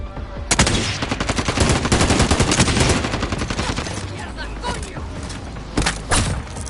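Rapid automatic gunfire in a team shooter video game, dense bursts of loud shots firing almost continuously for several seconds, with a few isolated cracks near the end.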